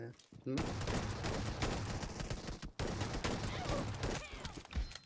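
Dense, loud bursts of automatic gunfire from the mobile battle royale game PUBG Mobile, nearly continuous with a short pause midway, with a voice talking over the shooting.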